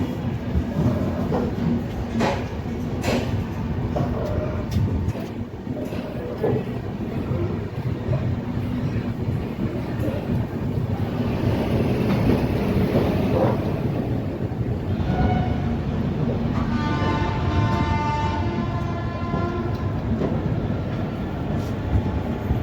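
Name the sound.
Marathwada Sampark Kranti Express train departing Nanded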